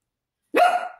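A single sharp, high-pitched bark from a small chihuahua, close and loud after a moment of silence.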